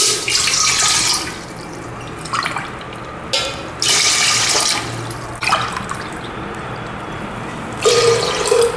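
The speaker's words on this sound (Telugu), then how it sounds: "ఏడు గ్లాసుల నీళ్ళు పోసుకొని" Water poured glass by glass into a cooking pot, about seven measures for boiling, with several separate gushing bursts between short pauses, close and fairly loud, no talk.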